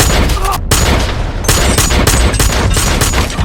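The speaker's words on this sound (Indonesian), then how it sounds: "adu tembakan tidak terhindarkan lagi" A rapid exchange of gunfire, with loud overlapping shots in bursts and a brief pause near the start.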